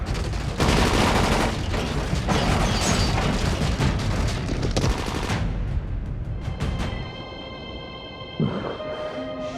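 Rapid bursts of gunfire in a Dying Light game cutscene, loud and dense for several seconds, then fading into a quieter scene with a sustained tone and a brief knock.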